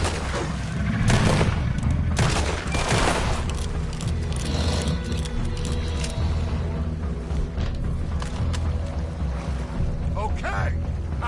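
Gunfire in a PS4 action video game, dense bursts of shots over a steady rumble of water and engine noise, with several loud transients early on and voices speaking throughout.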